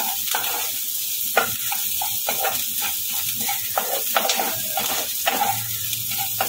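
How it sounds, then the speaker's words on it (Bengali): Onion for kanda poha frying in a pan, a close continuous sizzle broken by frequent quick stirring scrapes and clinks, with no talking. "পেঁয়াজটা হালকা ভাজা হয়ে গেছে"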